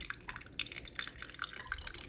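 Saskatoon berry juice strains through about four thin layers of cheesecloth, dripping in soft, irregular drops and trickles, faint and close, with no voices.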